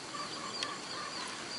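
Pet turkeys in a backyard coop area, soft honking calls with one brief sharper note, moderately distant over steady outdoor background noise.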